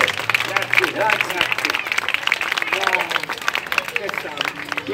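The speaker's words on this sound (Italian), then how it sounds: "Anche un applauso per il nostro grande tenore" Audience applause for a tenor at a live stage show, clapping mixed with crowd murmur and overlapping talk across the whole stretch.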